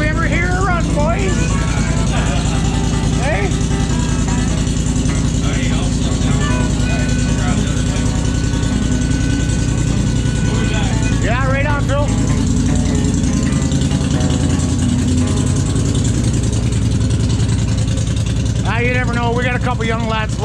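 Close and loud, a 2020 Polaris Scrambler XP 1000 S on its stock exhaust idles with a steady rumbling drone for about twenty seconds while people talk intermittently over it.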